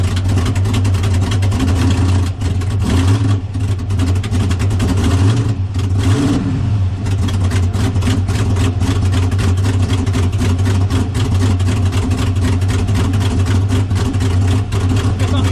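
A car held on a two-step launch limiter at a radial drag racing event, its engine droning loudly and steadily with rapid stuttering pops, briefly dipping and rising in pitch midway, with no talk.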